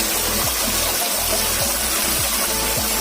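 A waterfall in a bamboo forest in Medellin pours with a loud, constant rushing roar, accompanied by faint rhythmic thumping beneath.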